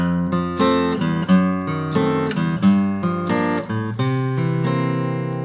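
A guitar plays a short jazz turnaround in F, clean plucked chords ringing in a steady rhythm, close and clear with no talking.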